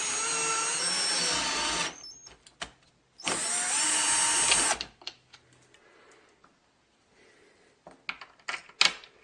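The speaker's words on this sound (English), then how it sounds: "just drive that in with a drill" A power drill whines loudly in two bursts, driving a threaded insert on a bolt for a table saw blade sharpening jig, followed by quieter clicks and handling noises.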